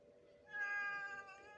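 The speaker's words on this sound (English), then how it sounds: "That were a very mournful meow." A cat lets out a single drawn-out, mournful meow, close and fairly quiet, lasting about a second.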